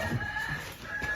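A chicken gives a short cluck nearby, brief and fairly clear against faint background noise.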